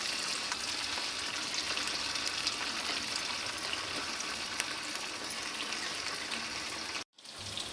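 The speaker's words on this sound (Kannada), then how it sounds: "ಇತ್ತೆ ಕಬಾಬ್ ಪೂರ ಆವೊಂದುಂಡು ಫ್ರೈ ಆವೊಂದುಂಡು" Kebab frying in oil: a steady, close hissing sizzle with fine crackles that runs unbroken for several seconds, then cuts out abruptly and starts again.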